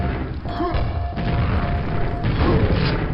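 Heavy grenade blast in the video game Quake, fired to launch a grenade jump, a loud booming crash that fills the short moment with dense rumbling game noise and no talk.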